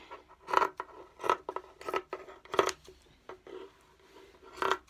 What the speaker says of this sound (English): by cutting the t-shirt just below the armpits, okay? So we're just going to cut it